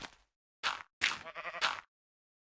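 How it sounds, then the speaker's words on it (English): Two or three wavering sheep bleats in quick succession from a video game, close and fairly loud, with short silences between them. "that is a sheep."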